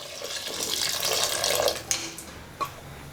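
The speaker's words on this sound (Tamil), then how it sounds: "இப்போ இதில் தேவையான அளவுக்கு தண்ணி சேர்த்துடலாம்." Water streams into a pot of cooking vegetables for a couple of seconds, a soft close pour that tapers off into a few small splashes.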